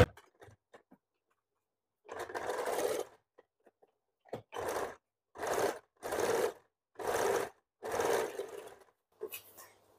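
A domestic sewing machine stitches a bra-cut blouse in several short bursts of whirring, each lasting under a second to a second, separated by pauses, close and clear with no talking.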